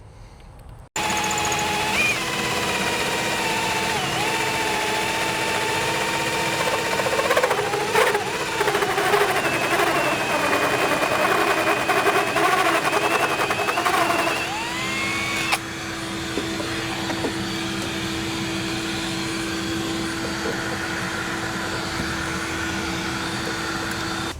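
A hole saw cuts through plywood boat deck with a steady, loud whirring drone that holds for the full stretch, its pitch shifting slightly as the bit bites and then settles after breaking through.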